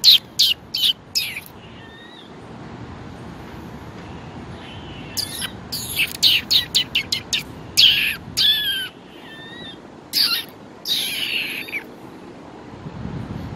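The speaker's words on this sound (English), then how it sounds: "I think the squirrels are making some weird noise" Squirrels outdoors behind upscale condos give odd, high-pitched chirps and squeaks in short clustered bursts, fairly faint over a quiet outdoor hush with no talking.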